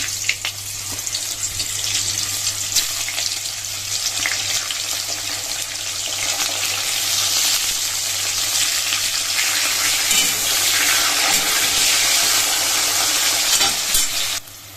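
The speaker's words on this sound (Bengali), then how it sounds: "এখন হচ্ছে ছিমগুলো ভাজা হবে।" Flat beans (shim) fry in hot oil in a wok, giving a steady broadband sizzle that swells slightly louder midway, with occasional stirring scrapes and a low constant hum beneath, no voices.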